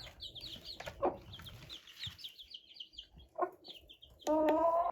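Young chicks in a brooder give rapid high peeps and soft clucks close by, scattered in short bursts, with one louder sustained call at the end.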